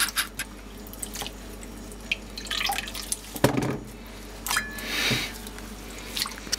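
Water drips and splashes onto a disposable nappy in an absorption experiment, with irregular close drips, soft squishy splats and brief trickles against quiet background hiss.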